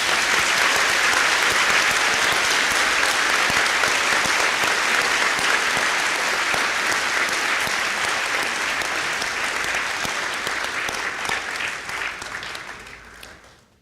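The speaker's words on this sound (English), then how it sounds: "Let's give these veterans a huge round of applause." Sustained, dense audience applause for veterans at a school Veterans Day ceremony, loud and even for most of its length before tapering off and fading out at the end.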